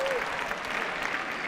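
Tennis crowd at Roland-Garros during a Nadal vs Soderling men's final doing the wave, a sustained swell of applause and cheering from a large stadium audience, with a faint voice in the background.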